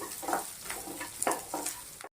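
Chopped green chilli stirred in a frying pan for egg uggani, with a spatula scraping in four or five regular strokes over a soft, steady sizzle, close and moderately loud, ending abruptly.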